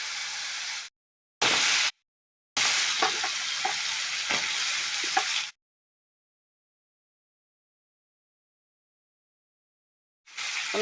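Pumpkin pieces cooking in a frying spice masala for a kochur loti and dried fish dish, heard as a bright, close hiss of sizzling oil with stirring clatter, cut by abrupt silent gaps before a long quiet stretch.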